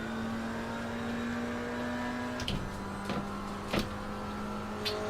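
A GT4 race car engine in Assetto Corsa Competizione holds a steady drone, then drops pitch with sharp gear-change blips as it revs, loud and continuous under game ambience.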